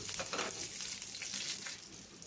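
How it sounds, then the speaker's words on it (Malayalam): Mustard seeds and curry leaves frying in hot oil for a brinjal theeyal, giving a faint, continuous crackling sizzle with no talk. "കടുക് കൂട്ടിക്കഴിയുമ്പോൾ നമുക്ക് കറിവേപ്പില ഇട്ട് കൊടുക്കാം"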